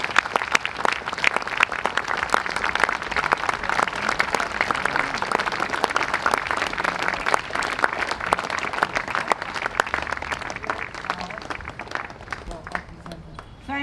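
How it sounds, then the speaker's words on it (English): Sustained, dense applause from an outdoor audience at a memorial dedication honoring veterans, loud and steady for about fourteen seconds before tapering slightly at the end. "Let's all give them another round of applause."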